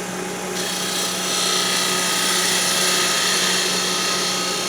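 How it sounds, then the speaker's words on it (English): A wood lathe spinning a peppermill blank in a jam chuck while a spindle gouge cuts near the center, producing a loud steady motor hum with continuous rushing, scraping noise throughout and no talking. "Come by with my spindle gouge."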